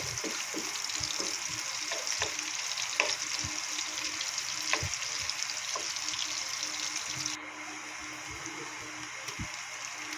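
Onion sautéing in a hot pan for ginisang ampalaya, a steady close sizzle and hiss with intermittent stirring clatter and scraping of a utensil against the pan, dropping a little quieter near the end.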